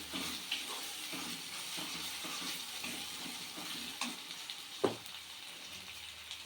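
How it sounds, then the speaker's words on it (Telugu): Ginger and garlic fry in hot oil with onions for a cashew chicken curry, giving a quiet, steady sizzle and hiss, with a few soft stirring taps and one sharper knock near the end. "మనకు అల్లం వెల్లిపాయ కూడా నూనెలో వేగాలి"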